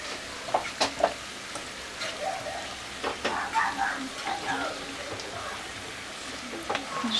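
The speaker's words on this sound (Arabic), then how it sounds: "شفتيهم كيكون الزيت سخونه دابا كيتقلاو" Cheese-filled briouats fry in hot oil with a steady, close crackling sizzle and scattered sharper pops throughout.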